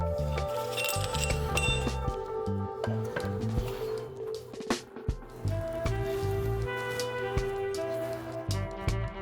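Metal parts clink and tap as a rear brake caliper on a Honda Accord is worked back over the pads, a string of sharp, close, irregular metallic knocks and rattles.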